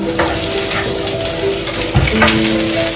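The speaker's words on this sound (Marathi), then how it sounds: "सुकं खोबरं आलं लसूण मिरची धणे आणि कांदा हे भाजायचं आहे" Coconut, ginger, garlic, chili, coriander and onion dry-roasting in a pan give a steady soft sizzle with occasional stirring scrapes and a louder clatter near the end, with no talking.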